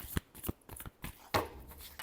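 Tarot cards are shuffled by hand in a few quick, close riffling and slapping strokes, with brief pauses between them.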